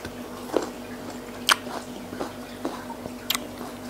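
Crisp bites into a fresh water apple (jambu air), followed by moist, crunchy chewing, close-up with several distinct crunches spaced over a few seconds and no speech.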